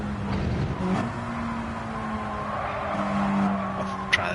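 A race car in Gran Turismo 7 drives with a steady engine drone, with the tires skidding and squealing through a corner, a continuous moderate roar with a brief sharp click near the end.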